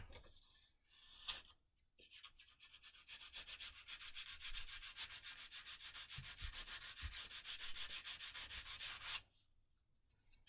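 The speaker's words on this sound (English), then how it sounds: "let's just sand that edge over there." Sanding along the edge of a laminated part built in the shop, a steady, close, continuous rasping scrape lasting about seven seconds, with brief handling knocks before and after.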